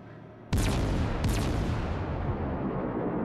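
Naval shells and gunfire in World of Warships, two loud booming salvos in quick succession followed by a long rumbling roar, close and heavy, with no speech.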